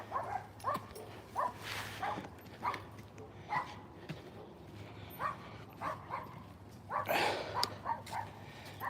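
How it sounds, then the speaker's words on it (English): Several neighbourhood dogs from nearby houses bark in repeated, spaced bursts at middle distance during a morning walk, with a low steady hum underneath. "Three houses worth of dogs are barking at him right now."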